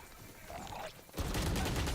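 Gunfire piercing a wall in Valorant during a pro esports match on a B site retake: a quiet lead-in, then a sudden dense burst of rapid shots, loud and sustained to the end.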